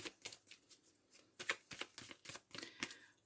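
Tarot cards slid, flicked and laid down for a nine-card spread, a quick irregular series of soft close papery snaps and rustles, quiet and without talk.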